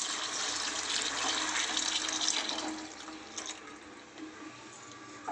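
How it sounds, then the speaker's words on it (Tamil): Water pours in a steady, loud stream onto soaked rice in a cooking pot while vegetable pulao is being made, then tapers off and grows quieter toward the end, with no talking over it. "அரிசி சேர்த்துருக்கேங்க, அதுக்கு நம்ம 2 டம்ளர் தண்ணி சேர்த்துக்கலாம்."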